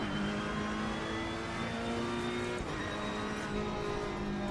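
A race car engine in the racing game LFM drones at steady high revs, its tone wavering slightly and dipping briefly midway, loud and close with no talk over it.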